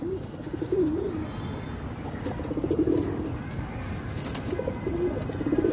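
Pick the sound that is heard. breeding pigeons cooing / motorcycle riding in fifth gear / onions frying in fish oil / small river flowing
breeding pigeons cooing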